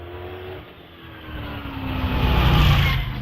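Brabham racing car at a British Championship hillclimb at Doune, heard from a distance as a steady engine drone that swells louder toward the end, with no one speaking.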